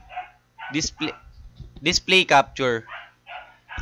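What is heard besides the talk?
dog barking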